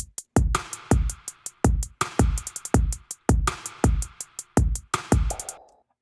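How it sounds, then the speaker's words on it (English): Drum loop from an Ableton drum rack, with punchy kicks and crisp snares and hi-hats repeating in a steady, fast rhythm, loud and alone before stopping abruptly near the end. "So right now the drums sound like this."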